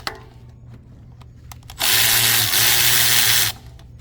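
Power tool loosening a 10 mm bracket bolt on a 2011 Toyota RAV4 2.4L during alternator replacement, a loud close whirring burst lasting under two seconds after quieter workshop noise.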